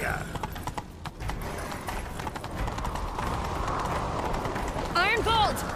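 Horses galloping in The Witcher 3 video game, a dense rapid clip-clop of hooves running close by, with shouted voices over the hoofbeats and a brief whinny near the end.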